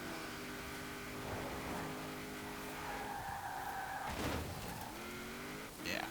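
A 1969 Toyota 2000GT in Forza Horizon 4 drives hard with engine drone and understeering tire squeal, the engine note climbing and shifting as tires screech through corners.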